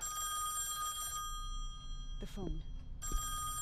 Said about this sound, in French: Est-ce qu'on décroche ce téléphone